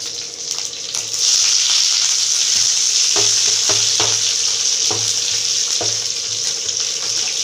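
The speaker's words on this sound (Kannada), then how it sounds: "ಈರುಳ್ಳಿ ಎಲ್ಲ ಚೆಂದ ಫ್ರೈ ಆಗಲಿ" Onions frying in a pan for upsaaru give a loud, continuous sizzle, with a few spoon or spatula scrapes against the pan as they are stirred.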